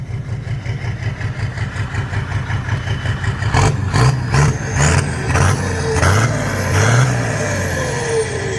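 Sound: car engine revving with loud exhaust pipe

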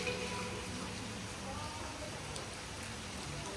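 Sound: rain falling at a Maldives resort

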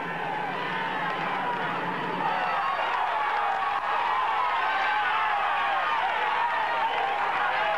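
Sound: French crowd cheering at Tour de France climb

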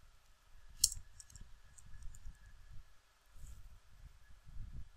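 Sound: typing a command on a keyboard

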